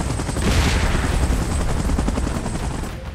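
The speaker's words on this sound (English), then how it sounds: "Chopper in position." A helicopter in the PUBG Mobile video game gives a loud, steady rotor chop that runs throughout, mixed with dense gunfire-like rattling in a Godzilla and Kong versus Mechagodzilla event, and it fades slightly at the end.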